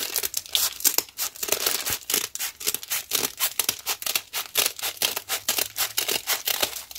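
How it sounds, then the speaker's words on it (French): Large scissors snip through paper again and again, a close, crisp run of cuts mixed with paper crinkling and rustling as the sheet is handled, with no one talking. "Je vais prendre mon grand ciseau."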